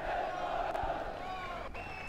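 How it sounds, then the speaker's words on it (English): A crowd cheering at a schoolboy rugby match between St. Thomas's College and Royal College, a steady roar from distant massed voices with a commentator talking over it. "The crowd is going wild, cheering on their side."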